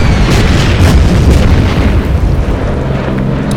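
Bombs explode in the war strategy game Order of Battle: Burma Road as loud, dense rumbling booms that roll on continuously, with heavy low-end blasts overlapping one another and no voices.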